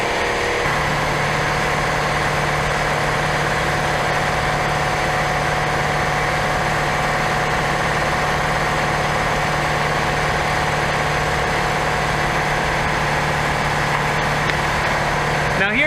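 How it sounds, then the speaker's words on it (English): An air compressor runs steadily in a farm workshop, a loud continuous mechanical drone with a constant low hum throughout, nearby and unbroken. "And of course, the air compressor."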